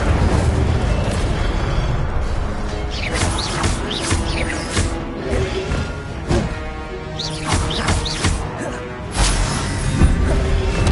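Incendio fire spell cast repeatedly in the Hogwarts Legacy video game, dense roaring whooshes and bursting blasts over constant loud game noise, with a voice calling out spell names between them.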